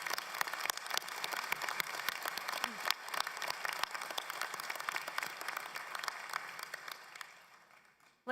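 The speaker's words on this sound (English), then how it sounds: "Could we all give a warm round of applause for everyone who supported you on your journey?" Audience applause fills a college convocation ceremony hall, a dense sustained clapping from a large crowd that holds steady for about seven seconds before tapering off.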